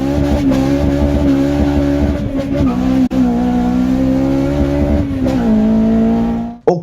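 A Honda Civic Type-R's K20 engine revs hard above 6000 rpm, a loud sustained high-pitched wail that holds steady for several seconds before dropping off abruptly at the end.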